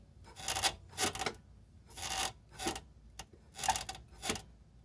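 A worn front lower control arm bushing on a second-generation Toyota Prius clunks and creaks in about six separate rasping bursts as the car goes over bumps, close and fairly loud, with no speech.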